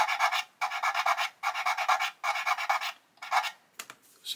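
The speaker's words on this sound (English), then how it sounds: "using the sanding stick, come in and just sand until it's all white plastic" A plastic part from a Meng 1/35 Chieftain Mk10 tank model is rubbed with a sanding stick in quick rhythmic strokes, about six bursts of close, dry rasping separated by brief pauses.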